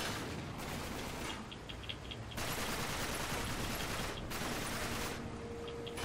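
Video game gunfire in Uncharted 3: Drake's Deception: sustained rapid automatic bursts with short pauses, loud and busy, set against continuous game noise and with no voices.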